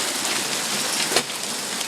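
Hail pelting down steadily during a summer hailstorm in Springfield, Massachusetts, a dense continuous hiss of many hard impacts heard up close from a garage, with one brief louder clatter midway.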